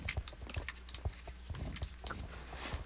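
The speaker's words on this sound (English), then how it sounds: "My horse." Horse hooves in the video game Star Stable, a steady clip-clop rhythm of repeated light impacts at moderate volume, heard alone.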